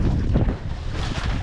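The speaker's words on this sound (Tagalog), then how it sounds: "Parang makina." A boat engine runs on the water, a steady low rumble mixed with wind buffeting the microphone, loud and close with no talking.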